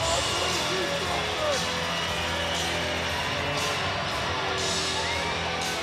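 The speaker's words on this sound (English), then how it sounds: "The crowd begins to make some noise." An arena football crowd at an Arizona Rattlers home game against the San Diego Strike Force makes a loud, sustained din of yelling and whoops, with occasional bangs and an announcer's voice in the mix.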